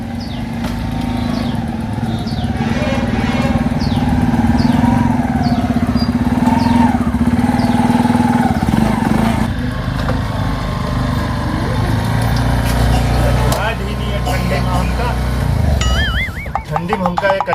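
A small motor vehicle engine runs steadily nearby with a buzzing, lawn-mower-like drone, while people talk loudly over it throughout.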